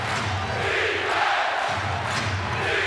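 Basketball arena crowd at a 2005 playoff game between the Pacers and Celtics roars steadily during a Celtics run, a dense, sustained wash of cheering and shouting with swelling surges.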